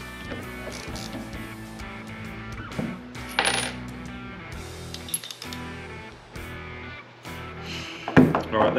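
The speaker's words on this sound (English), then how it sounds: "Level wedge fell out, so I'm gonna put it back in there." A small level wedge drops out of a scope mount for a Leupold Mark 5 optic, giving light metallic clinks and taps among handling noises on a workbench, with someone talking intermittently.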